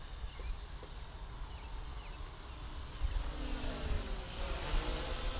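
A WLtoys Q696-A RC car motor runs at full throttle with a steady mid-pitched whine and rumble that swells slightly partway through, fairly close and continuous.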